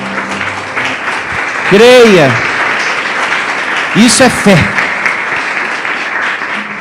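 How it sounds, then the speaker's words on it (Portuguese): Church congregation applauding during a pastor's sermon, a steady broadband wash of clapping that runs throughout, with a preacher's voice speaking loudly over it in two short bursts. "Palmas para o nosso Deus, bem forte."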